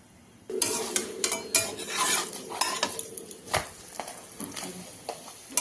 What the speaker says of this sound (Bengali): তেল দিয়ে একটু ভেজে নিয়ে নামিয়ে নেব।